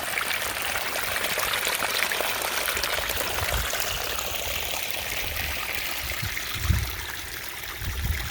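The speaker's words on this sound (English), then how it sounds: "The water flows all the way down" A garden pond waterfall spills water down a spillway into the pond, making a steady close splashing and trickling rush with a few louder gurgles near the end.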